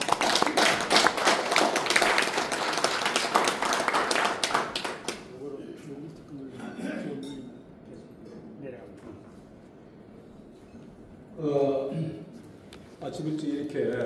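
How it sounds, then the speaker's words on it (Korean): Applause from an audience welcoming a speaker at a lecture on the healing industry, dense clapping for several seconds that fades into a talking voice with light taps. "큰 박수로 맞이해주시기 바랍니다."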